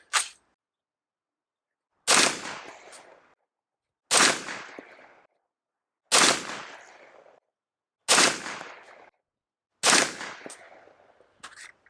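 Six unsuppressed rifle shots of Minuteman Munitions subsonic 300 Blackout fire one at a time, about two seconds apart. Each is a loud, sharp crack with a ringing tail, and no voices are heard.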